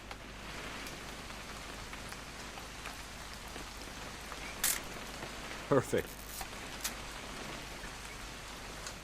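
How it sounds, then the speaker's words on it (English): Steady rain falls throughout a rainy outdoor scene in the video game What Remains of Edith Finch, a soft continuous patter with a few brief louder knocks and short spoken lines over it. "It's gonna rain the whole weekend, isn't it?"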